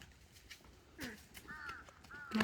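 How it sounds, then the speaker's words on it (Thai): A crow caws outside a home in a few short, harsh calls, fairly faint against quiet background noise. "เสียงกาก็ร้อง"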